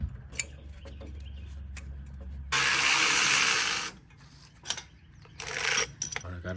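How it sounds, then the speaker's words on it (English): Ratcheting wrench clicks and metallic tool noises while a tie rod nut is removed from a truck's steering linkage, with a loud broadband burst midway and scattered clanks, close and alone. "I got a tie rod nut off"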